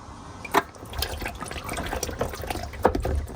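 Transmission fluid drains from the pan of a 2006-10 Charger NAG1 Mercedes transmission, splashing and trickling into a catch container with irregular drips and small gurgles, close and fairly quiet.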